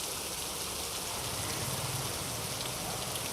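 Steady heavy rain hissing without pause in Pune, a dense even downpour close by with no voices.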